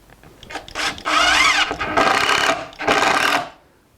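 A Phillips screwdriver drives a screw into a wooden acoustic guitar neck joint fixture, giving three close, loud, whirring bursts, each about a second long, with short pauses between them.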